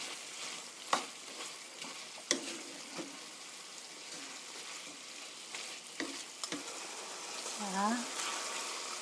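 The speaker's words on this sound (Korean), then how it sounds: "5미닛, 5분 정도 볶아주세요." Chicken with tomatoes and onion stir-frying in a pan gives a soft, continuous sizzle broken by several sharp spatula knocks against the pan and a brief squeak near the end.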